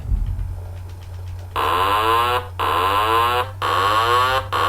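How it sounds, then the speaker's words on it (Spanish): A Boeing 737 cockpit warning alarm sounds as three loud, sustained warbling tone bursts, each about a second long and separated by brief gaps, over a steady low hum. "Esa sería la alarma."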